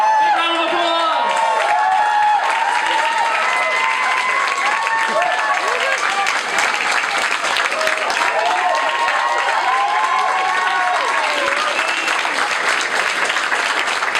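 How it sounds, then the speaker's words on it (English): An audience at a Q&A event with Brian May bursts into continuous clapping and cheering, with whoops and excited voices mixed in over a steady, dense wash of applause. "Big round of applause!"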